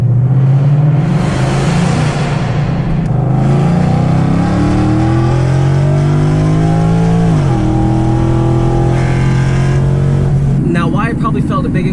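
A Ford Mustang fitted with a cold air intake revs hard under a bridge. The loud engine note climbs, drops sharply partway through, then holds steady, reverberating close by.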